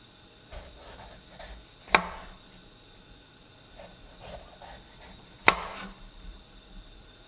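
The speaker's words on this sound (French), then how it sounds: "je vous propose de découper votre poivron différemment et de le découper comme ça" A knife cuts a bell pepper into strips on a board, giving two sharp crisp slicing thuds several seconds apart and a few softer taps between them, close and quiet, with no talk.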